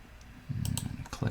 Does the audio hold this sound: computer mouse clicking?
yes